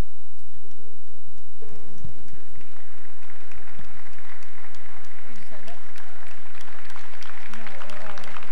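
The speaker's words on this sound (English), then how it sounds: "give them a big round of applause" Applause for champion Milking Shorthorn cows at an open cattle show, a steady crowd clapping that swells and holds for several seconds after a brief lead-in of voices and movement.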